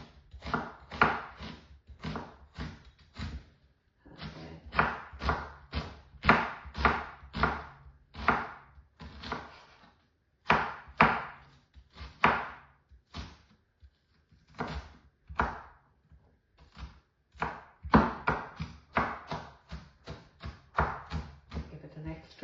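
A knife chops an onion on a cutting board in quick, steady bursts of close, crisp taps, broken by brief pauses, with no one speaking over it.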